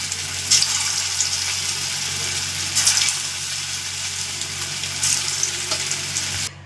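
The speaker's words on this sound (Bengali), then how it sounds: "একে একটু তেলে সময় নিয়ে নিয়ে ভাজতে হবে" Pointed gourd pakoras deep fry in hot oil, a steady close sizzling hiss with brief louder bursts of crackle every couple of seconds.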